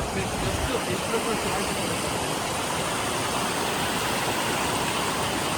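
Steady roaring rush of a waterfall at a dangerous trekking spot, broadband and continuous, loud and close throughout with no pauses.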